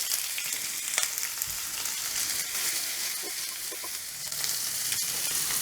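Garlic, ginger, two onions and curry leaves frying with mutton keema for a cabbage curry, a close, steady sizzle with occasional stirring scrapes, no voices.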